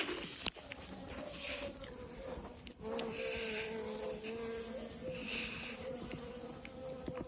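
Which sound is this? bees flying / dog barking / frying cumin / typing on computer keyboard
bees flying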